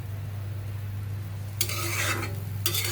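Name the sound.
stir-frying spice masala for chicken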